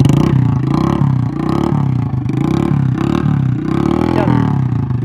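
A motorcycle engine fitted with an aftermarket exhaust silencer revs loudly and close up, rising and falling in several bursts with a throaty, rumbling tone.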